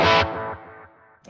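A short, gritty overdriven electric guitar chord through a Princeton amp preset with amp drive hits hard and rings out briefly before a fresh strum cuts in at the end.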